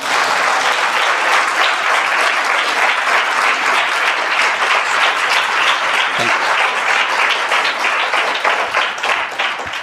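A church congregation claps loudly and steadily together in a dense, continuous wash of applause that tapers slightly at the end.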